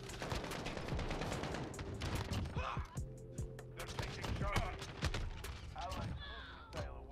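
Gunfire in the shooter game Modern Warfare, likely the R9-0 shotgun among other weapons: dense bursts of shots and clattering impacts run throughout, with a player talking over the action.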